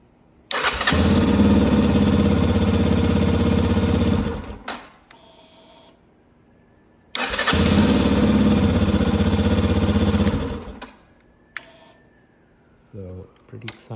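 A Yamaha XT250 motorcycle fitted with a lithium-ion battery cranks and fires twice, each time running loud and steady for about four seconds before cutting off, followed by quiet gaps and a few faint clicks.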